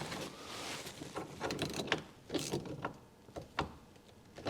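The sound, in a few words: tightening bolt on Porsche 911 Turbo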